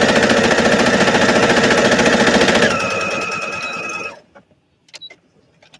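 An SC625 sewing machine stitches at a fast, steady clatter for about four seconds and then winds down and stops, leaving a few soft clicks and a brief thread-cutter whir near the end.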